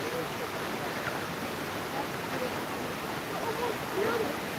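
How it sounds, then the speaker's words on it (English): Waterfall in Provo Canyon, heard as a steady broadband rush of falling water that holds level and close throughout, with no voices over it. "look, there's the waterfall right there"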